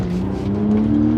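A Honda Integra Type R track car idling as it pulls up, a steady low engine drone with a slight rise in revs toward the end, close and continuous with no talking.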